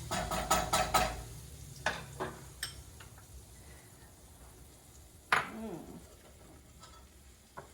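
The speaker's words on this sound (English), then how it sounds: "So we will cook the flour in the butter here, in the melted butter" Flour cooking in melted butter in a pot for a bechamel sauce, with a few sharp utensil clinks and scrapes at the start, then soft stirring and a faint sizzle, closing with one louder clatter.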